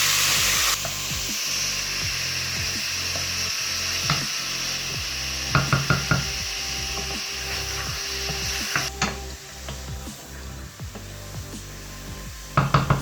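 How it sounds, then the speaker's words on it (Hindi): Chicken and garlic sizzle in a hot pan while a spoon stirs and scrapes, a dense, loud frying hiss running throughout with irregular clatters against the pan. "जब लहसुन की खुशबू आने लगेगी तो हम इसमें चिकन ऐड कर देंगे। इसको भूनेंगे थोड़ा"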